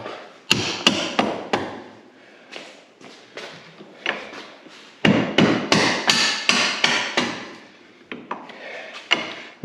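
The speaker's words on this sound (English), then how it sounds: "So rubber hammer," A rubber hammer knocks a front shock tower mount into place on a Can-Am Maverick X3, giving a series of sharp, close, irregularly spaced thuds and taps in quick bursts, with brief pauses between groups and no talking.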